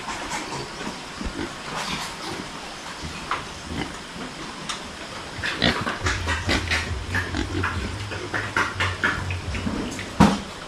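Pigs in a farm pen, a boar among the sows, grunting and squealing close by over a steady hiss, with a low continuous drone joining partway through and a sharp squeal near the end.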